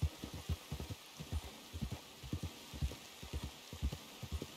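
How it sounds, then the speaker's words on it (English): Horse hooves clip-clopping in the Red Dead Redemption 2 video game, a steady rhythmic run of soft thuds in quick groups, moderately close over a faint hiss of rain-like ambience. "Miss Jackson is a tough horse."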